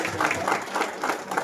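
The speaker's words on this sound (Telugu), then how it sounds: "give them big big round of applause" Audience applause at a congratulatory event in Hyderabad, a brief dense clatter of many hands clapping together, fairly close and continuous.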